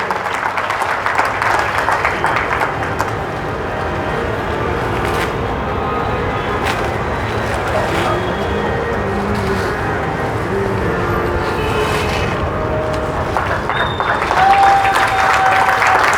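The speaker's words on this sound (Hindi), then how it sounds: "जोरदार ताली बजाकर स्वागत करेंगे।" Audience at a Srimad Bhagavatam katha applauds loudly to welcome the mridang players, a long, dense wash of clapping that holds steady for about sixteen seconds, with a brief tonal sound near the end and no clear voices.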